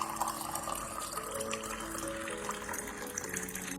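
A steady, continuous stream of water fills a deep cooking pot, sounding close and full with a gently rising pitch as the level climbs, and no voices.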